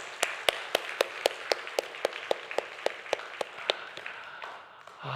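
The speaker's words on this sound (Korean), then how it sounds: "우리 생각난 김에 한번 격려의 박수 한번 할까요?" A church congregation claps together in a steady, even rhythm, about four sharp claps a second, heard from a moderate distance in a quiet room before the clapping fades out.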